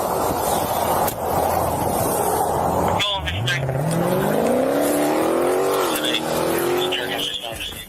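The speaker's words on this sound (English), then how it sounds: "Tires screeching, engine roaring" A car tears away from a roadside police stop, its engine roaring up through rising revs after a sharp squeal of tires, loud and close, with a continuous dense noise before the launch.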